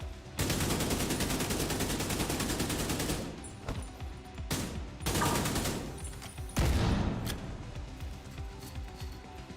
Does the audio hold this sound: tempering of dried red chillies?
no